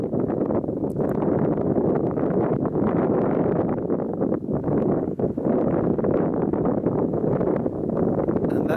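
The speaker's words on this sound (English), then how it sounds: "Just wait for this wind, just enjoy the view." Steady wind roars across an open fell top in the Lake District, a continuous loud buffeting rush with broad low gusts and no voices.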